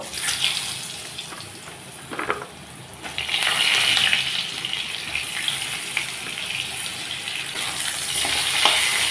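Loud, steady sizzling of potatoes frying in hot oil with black cumin seeds, close up, with a brief stirring clatter before the hiss swells and holds.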